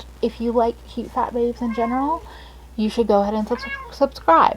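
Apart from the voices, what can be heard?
cat meowing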